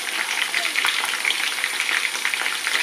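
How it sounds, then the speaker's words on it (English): Steady crackling sizzle of chicken drumsticks frying in a pan, continuous and close, with small pops scattered throughout. "after you finish uh, frying your drumsticks"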